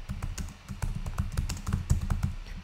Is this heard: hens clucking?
no